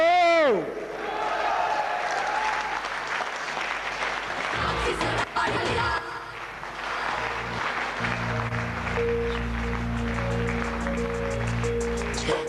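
A large live audience applauds and cheers at a stage event in a dense, sustained wash of clapping, while an amplified voice and music play over it the whole time.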